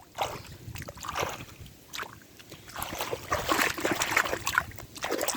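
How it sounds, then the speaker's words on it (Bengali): Rainwater trickles and gurgles through a freshly cut gap in a paddy-field bund in a village, a close, continuous flow with small splashy surges and no talking. "এই পানিগুলো যাবে হলো ওইদিকে আর একটা ধানের খেতে।"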